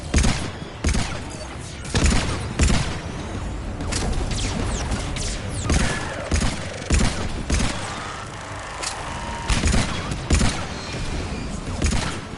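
A big gun fires repeatedly in the Mass Effect 3 video game, loud booming shots in a steady broad rhythm roughly every second or two amid battle noise, with metallic mechanical creaks and whooshes between blasts.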